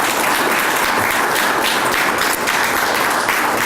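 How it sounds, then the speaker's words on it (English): A large audience at a veterans' ceremony at the Great Lakes National Cemetery gives a sustained, dense round of applause, steady and loud throughout with no talking over it. "Let's give them another big round of applause."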